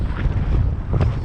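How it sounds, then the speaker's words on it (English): Strong wind blowing outdoors on a windy day, buffeting the microphone as a continuous low rumble that swells and eases in gusts, with no one talking. "As you can hear, it's windy"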